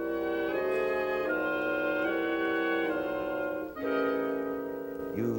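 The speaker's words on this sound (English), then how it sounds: "And together they make the bitonal sound like this." Orchestra playing bitonal chords, one group of instruments in one key and another group in a different key, in a Gershwin passage; a string of sustained, shifting chords, moderately soft and hazy, with no talking.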